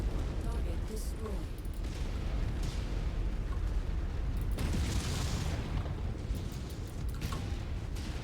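Explosions and heavy weapons fire as targets are destroyed in the MechWarrior 5 battle game, a dense continuous rumble with repeated booms and blasts and a voice over the combat.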